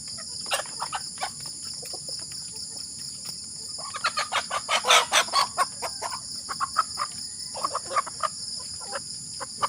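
Rhode Island Red chickens cluck in quick bursts while a rooster crows in the middle, against a constant high insect-like buzz outdoors.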